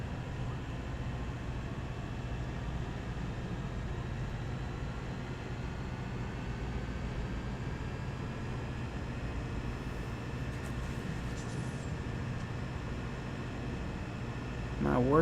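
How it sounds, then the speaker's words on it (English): A train in the video game Farming Simulator 17 passes outside as a low, steady rumbling roar that continues throughout, with a few faint brief noises near the end. "I'm hearing a train outside the window, and it is loud."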